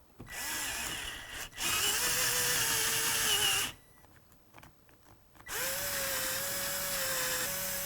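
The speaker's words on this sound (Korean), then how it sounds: "여기를 타공을 해줄 거예요. 아예 반대편까지 구멍을 뚫어줄 겁니다." A power drill bores a hole straight through a wooden board for a rotating turntable mount, whining in two steady bursts with a short quiet pause between them.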